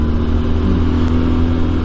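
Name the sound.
Benelli TRK 502X motorcycle engine revving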